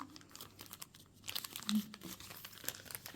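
Close, crisp crinkling of a thin plastic bag as a book cover is pulled out, in short irregular bursts, with a brief louder rustle partway through, quiet otherwise.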